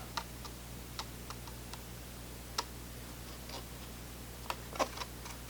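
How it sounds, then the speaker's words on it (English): Scissors make a handful of faint, sharp snips, scattered irregularly through an otherwise quiet stretch. "we're going to take our scissors and we are going to just snip right here"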